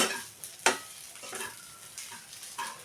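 Food frying on low heat in a pan while making lemon rice, with soft sizzling and a few sharp scrapes and taps of a spoon stirring it, fairly quiet and close.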